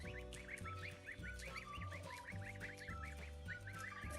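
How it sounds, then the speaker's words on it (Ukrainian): Many Kholmogory goslings, about ten days old, peep continuously in high, rapid chirps, with a low steady hum of an engine or fan running underneath throughout. "Це наші гусенятка."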